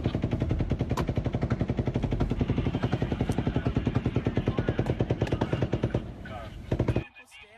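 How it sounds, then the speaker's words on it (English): Rapid burst of automatic gunfire fired from a high hotel window into a crowd at Mandalay Bay in Las Vegas, a long, steady, dense string of shots under distant voices that cuts off sharply near the end. "Paddock fires a ninth burst of fire right over a line of cabs and into the crowd"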